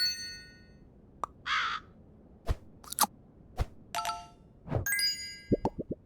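Crow cawing in Super Auto Pets: short game sound effects, with plops, dings, clangs and a single brief caw scattered among sparse chimes, fairly quiet with no voices.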